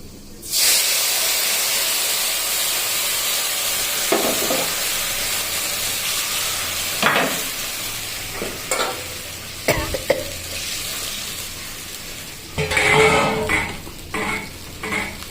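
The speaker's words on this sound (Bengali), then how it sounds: "তো আমি দেখুন শুকনো লঙ্কা সর্ষে মেথি মুড়ি ফোড়ন দিয়ে দিলাম এবার আমি তেঁতুলের জলটা দিয়ে দেবো" Dry chillies, mustard seeds and fenugreek sizzle in hot oil as a tempering, a steady loud hiss with occasional stirring clinks, then a burst of spitting steam as tamarind water hits the pan; no talking.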